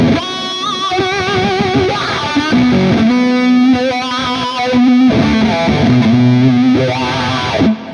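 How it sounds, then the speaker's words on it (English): Heavily distorted electric guitar through a Petrucci amp-sim wah-wah effect, sweeping and vocal-like, aggressive and loud, playing a continuous riff with no talking. "all the way from the left, we have a wah-wah. Now this actually sounds great, very aggressive."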